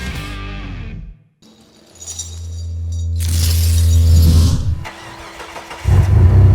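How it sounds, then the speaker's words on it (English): A truck engine cranks and catches, then revs up into a loud, rough idle close by, with throttle swells and a brief clatter as it keeps running. "oh, let that motor run."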